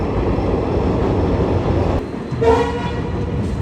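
A train passes near the Pamban bridge at Rameswaram, a loud continuous rumble of rolling wagons with a brief horn-like tone midway, heard up close with no talk.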